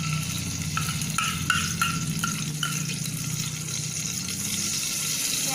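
Ghee sizzling in a hot pressure cooker after the water has boiled off, a constant close frying hiss with a string of light metallic clinks and taps from stirring, no talking.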